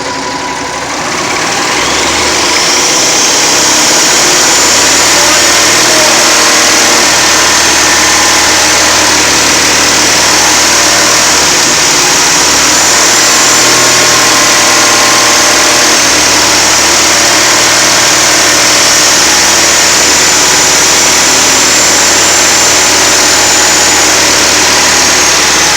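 A car engine runs steadily and loudly in drive during automatic transmission troubleshooting, the throttle held up as it is limited to second gear, a continuous close drone throughout with no speech.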